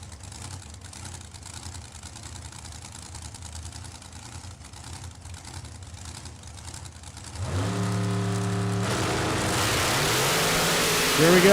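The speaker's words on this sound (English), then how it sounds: "The blown big block Chevy Dragster" A blown big block Chevy dragster at a drag racing event rumbles at a steady idle, then erupts into a loud full-throttle launch with rapidly rising engine pitch that stays at a roaring peak to the end.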